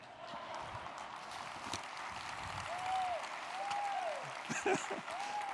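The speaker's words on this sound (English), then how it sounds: "Thank you for clapping" Audience applause for a keynote speaker on stage at a KOA convention in Phoenix, a steady wash of clapping across the whole stretch, fairly distant and even, with a few brief whistles rising above it.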